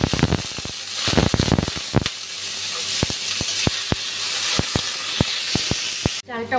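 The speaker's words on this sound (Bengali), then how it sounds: "গোবিন্দভোগ চালটা অল্প ভেজে নিচ্ছি।" Gobindobhog rice lightly frying in a pan gives a close hissing sizzle, with a burst of rustling stirs at the start and then evenly spaced sharp scrapes and taps.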